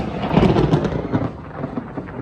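Deep rolling thunder from an approaching storm in St. Petersburg, Florida, rumbling loudly at first and then slowly fading into a long, low growl with no voices.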